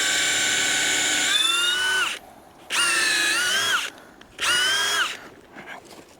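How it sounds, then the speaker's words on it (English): A power drill whines into a maple tree trunk, drilling tap holes in three separate bursts, its pitch dropping as the bit bites, with short quiet pauses between runs. "So we're going to drill a couple more."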